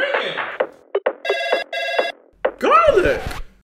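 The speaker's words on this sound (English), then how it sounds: "The phone is ringing!" A telephone bell rings in two sustained bursts, loud and close, set between short spoken exclamations and followed by a burst of excited, warbling vocal noise.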